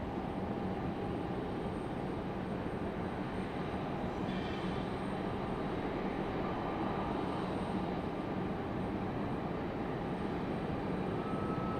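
A Southwest airliner at Raleigh Durham International Airport, its engines making a steady, continuous roar heard at a distance, with no voices.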